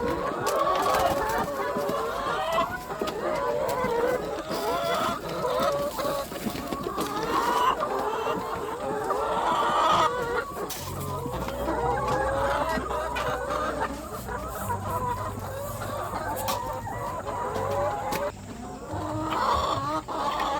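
Laying hens cluck steadily in a coop during hot weather, a dense, continuous chorus of many birds close by with overlapping calls, and a low hum joining in partway through.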